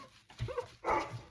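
A dog barks close by indoors, a couple of quick barks and a whimpering yip.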